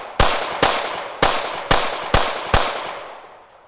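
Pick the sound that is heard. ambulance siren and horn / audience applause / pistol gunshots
pistol gunshots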